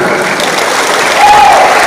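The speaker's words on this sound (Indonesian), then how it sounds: "Tepuk tangan." A large crowd at a speech applauds in a loud, continuous roar of clapping that swells slightly toward the end, with a tone rising briefly over it.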